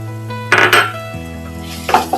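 Washed mutton dropped into a pan of sautéed onions and tomatoes for mutton sutriyan, a couple of clattering metal utensil knocks against the pan, then a low sizzle beneath, close and brief.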